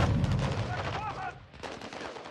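Gunfire in the video game Call of Duty: Modern Warfare 2, with rapid bursts of shots crackling at a moderate level under game dialogue and a voice talking.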